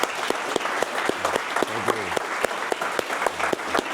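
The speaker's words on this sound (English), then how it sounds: "Huge round of applause" An audience at a speaker series event breaks into applause, a lively close patter of many hands with sharp individual claps punctuating it and a voice briefly heard underneath.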